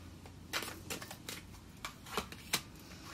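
Tarot cards shuffled and handled during a reading, several soft riffling swishes and slaps spaced irregularly, close and quiet with no talking.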